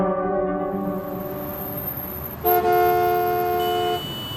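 Heavy road traffic with several car horns honking, one long sustained blast joining mid-way over a steady engine rumble, loud and close, with no talking.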